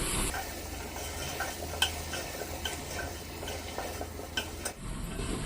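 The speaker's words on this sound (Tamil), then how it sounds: "இதெல்லாம் சேர்த்து மசாலா கூட நல்லா வதக்கிடுவோம்." Vegetables with potato and masala sautéing and stirring in a pan for sambar rice, a steady sizzle with scraping utensil clicks, close and moderately loud with no voices.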